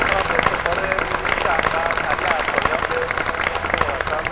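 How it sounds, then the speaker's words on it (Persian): An audience at an Iranian reality show breaks into sustained, dense applause, steady clapping across the whole stretch with a host's voice audible over it. "به افتخار این شهروند علی انصاریان یه دست مرتب بزنید"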